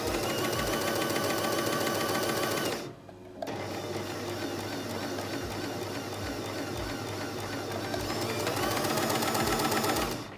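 A home sewing machine runs in rapid bursts as its foot pedal is pressed, a loud mechanical chatter that halts briefly and then resumes, speeding up toward the end.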